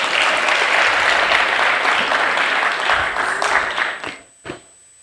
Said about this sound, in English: Let's give Divya another round of applause.